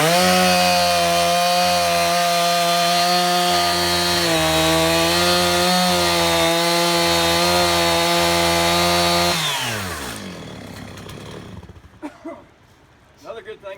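A chainsaw cuts through a large piece of wood at a forestry field day, its engine holding a loud steady roar for about nine seconds before winding down and stopping, followed by faint knocks and movement.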